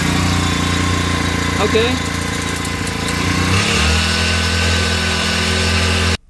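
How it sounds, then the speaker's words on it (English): A CUKUSIN 4-stroke 4-horsepower outboard boat motor runs at a steady close drone, its pitch dropping partway through before it cuts off abruptly at the end, with one brief spoken word. "the ever popular CUKU outboard motor engine 4-stroke 4-horsepower marine boat motor"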